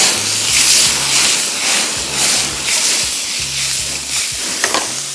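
Sliced bologna frying in a pan gives a steady bright sizzle and hiss, with a few soft stirring clunks and a low background hum running through it.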